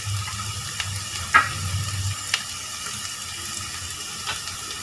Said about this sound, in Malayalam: ഇഞ്ചിയും വെളുത്തുള്ളിയും അരിഞ്ഞത് നമുക്കിതിലേക്ക് ചേർത്ത് കൊടുക്കാം.